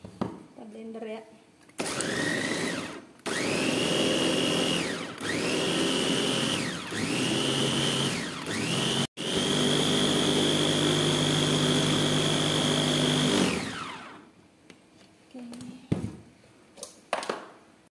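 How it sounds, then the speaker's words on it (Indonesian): A kitchen blender whirs loudly for several seconds, blending ingredients with 100 ml of water, its motor pitch rising and dipping in repeated pulses before one long steady run, then cuts off. "Kita blender ya."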